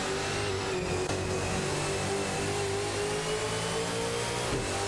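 Racing car engines from an AI racing video game featuring a Holden Commodore VF and a Ford Mustang, a continuous high mid-pitched engine drone with slight pitch shifts, alone.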